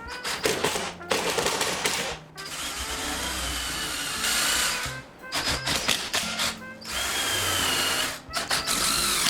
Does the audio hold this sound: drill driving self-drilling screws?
yes